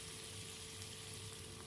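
Capsicum and green chillies fry in hot oil as a tempering for lemon rice, giving a continuous, even hiss of sizzling at low volume with no talk.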